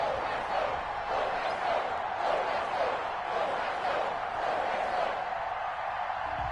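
A stadium crowd in an EA Sports NFL video game (Los Angeles Rams vs New England Patriots) makes a steady, muffled roar of crowd noise throughout, with no clear speech on top.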